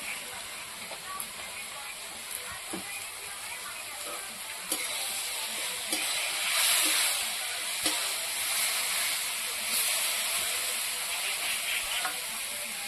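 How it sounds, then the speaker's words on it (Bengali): Spices frying in a little oil for a village-style Indian wax gourd dish, a steady high sizzle and hiss running throughout with occasional soft stirring clicks, swelling briefly louder midway. "মশলাটা দিলাম একটু হালকা করে তেল দিয়ে, মশলাটা দিলাম তো ভাজি নেই একটু তেল দিয়ে।"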